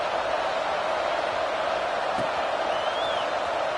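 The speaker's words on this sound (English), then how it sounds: "this crowd is buzzing after that last score" Steady crowd noise fills a football stadium between plays after a score, a dense continuous roar with no single voice standing out, fairly loud and unbroken throughout.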